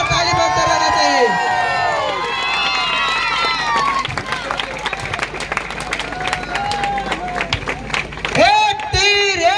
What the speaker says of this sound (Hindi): जोरदार ताली बजते रहना चाहिए